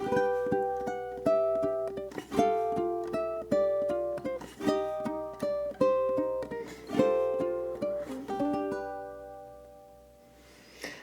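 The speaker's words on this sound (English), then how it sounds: "So it looks and sounds like this." Ukulele playing the closing four bars of a melody inspired by the movie Labyrinth, plucked notes in a steady rhythm with ringing chords, fairly quiet and close, fading to a soft decay at the end.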